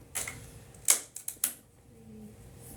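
Fabric pieces for a box cushion being cut: four or five crisp, close scissor snips in irregular rhythm, then quieter room tone with a faint hum and no talking.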